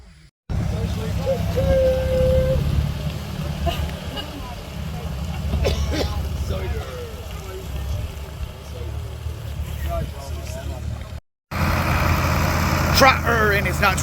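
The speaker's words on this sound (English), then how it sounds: "Tractor in its natural environment." A tractor idles at a rural festival event in Worcestershire, a low steady engine rumble running throughout with brief breaks and a short cut, with voices talking over it in places.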